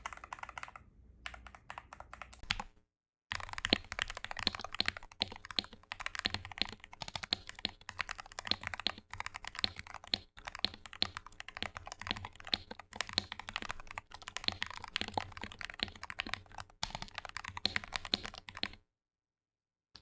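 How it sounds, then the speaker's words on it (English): Fast, steady typing on a modded mechanical keyboard fills the clip, a dense stream of close, crisp key clacks with a short pause near the start. "let's do a quick typing test to see how it sounds after all of our mods."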